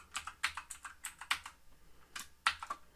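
Code being typed on a computer keyboard: quick bursts of close, crisp key clicks in an uneven rhythm with short pauses, no voices.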